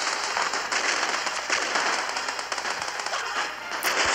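Artillery firing at a cannon tower in a multiplayer strategy video game, a dense continuous crackle of rapid blasts and bangs at steady loudness, with no talk.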